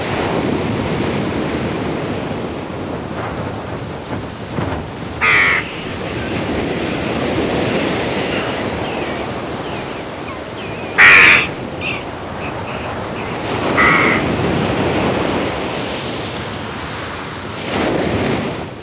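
A raven and jackdaws calling over sea cliffs, several sharp caws breaking out above steady surf and gusting wind noise, with a few calls standing clearly out and others fainter.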